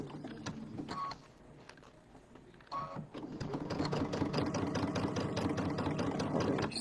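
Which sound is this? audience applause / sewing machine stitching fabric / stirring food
sewing machine stitching fabric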